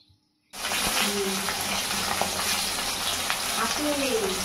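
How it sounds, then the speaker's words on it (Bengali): Pieces of catla fish frying in hot oil in a pan for a fish curry, a steady loud close sizzle that starts abruptly and continues without a break, with no talking. "দেখো, এদিকে মাছগুলো অলরেডি প্রায় ভাজা হয়েই গেছে।"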